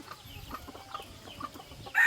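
A rooster and hen cluck softly in a run of quiet, evenly spaced notes, then a louder, sharper sound bursts in at the very end.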